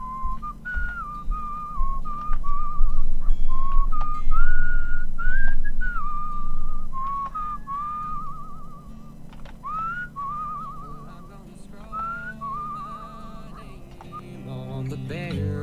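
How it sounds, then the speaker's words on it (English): Melodic whistling from the video game Where the Water Tastes Like Wine, a lone tune of wavering, gliding notes carried steadily over a low music bed for the whole stretch. "I kind of wish that the whistling varied from state to state."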